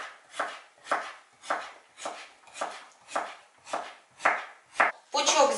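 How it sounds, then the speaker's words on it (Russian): A knife cuts through a small fresh cucumber on a board, slicing it into half-rings for a Soviet-style salad, with about ten evenly spaced, crisp chops close by, then a brief rustle at the end. "Огурчик нарезаю полукольцами."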